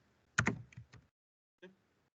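Computer keyboard keys struck while typing Python code: a quick burst of four or five close, crisp clicks, then a pause and a single further keystroke, with no talking.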